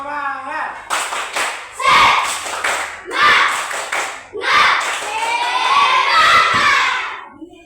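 Children in a physical education class perform a rhythmic group spirit clap cheer, with bursts of clapping and shouted chanting in several loud, close phrases.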